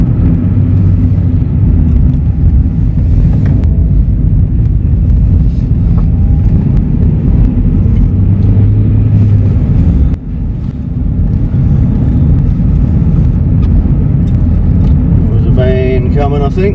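A 1998 Vauxhall Astra 1.6 LS Mk4 drives on a bumpy road, heard from inside the car as a steady, loud low rumble with road noise and a few jolts. Someone talks over the sound.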